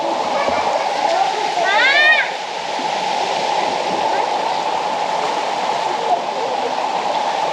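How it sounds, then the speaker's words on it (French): A waterfall in a deep Colombian canyon roars as a steady, loud broadband rush of falling water close by, with a brief chirping sound early on and no talking. "la cascade, elle est juste dingue"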